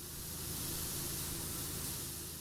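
A pressure washer in the PowerWash Simulator video game sprays in a steady, unbroken hiss of broadband noise. The rushing jet is close and even, with no talk over it.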